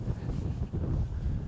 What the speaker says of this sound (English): It's blowing a gale, so I hope the mics are cutting the wind noise out here